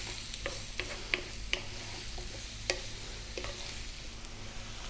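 Pumpkin frying over medium heat in a pan for vegan fried rice, a low continuous sizzle under scattered sharp scrapes and clicks of a utensil stirring, close and fairly quiet, no one talking.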